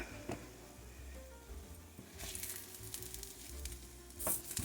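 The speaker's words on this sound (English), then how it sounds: "You can still hear a little sizzle." Soft crackling sizzle from a pan of baking cornbread stuffing with scraping stir sounds and a few clinks, moderately quiet, no talking.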